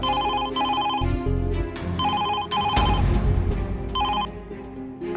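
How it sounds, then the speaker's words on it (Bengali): A telephone rings in repeated electronic bursts, a loud melodic ringtone with short gaps between phrases, heard alone with no talking over it. "ফোনটা বাজছে, ধরো ধরো ফোনটা ধরো।"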